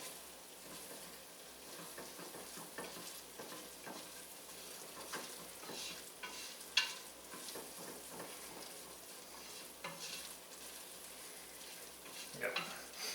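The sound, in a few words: stirring flour into a hot pot for lobster bisque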